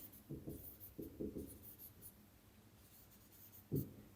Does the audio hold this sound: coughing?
no